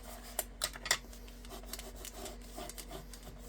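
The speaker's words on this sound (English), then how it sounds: "Give it a little rub down." Paper being rubbed down along the folds of a scored paper craft box, heard as soft, close scraping strokes with a few sharper crinkly rustles early on, then quieter brushing.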